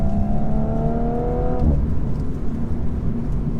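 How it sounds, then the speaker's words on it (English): 2017 Audi S4 pulling hard with a rising engine note that cuts at the upshift, followed by a brief exhaust crackle and steady road and engine rumble, heard from inside the car. "Nice little fart on the upshift."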